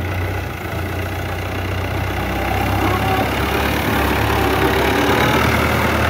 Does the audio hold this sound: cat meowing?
no